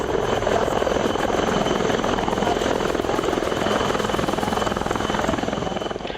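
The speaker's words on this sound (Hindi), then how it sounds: "वायुसेना के हेलीकॉप्टरों की कड़कड़ाहट दुश्मनों की नींद उड़ाने वाली है।" An Air Force helicopter lands on a snowy surface at about 9,000 feet in sub-zero cold, its rotor thumping loudly in a fast, steady beat close by, with a heavy engine roar underneath and no talk.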